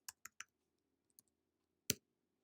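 A few sharp keystrokes on a computer keyboard while a password is entered, three quick clicks followed by a faint one and a final firmer press, close and isolated in a quiet room.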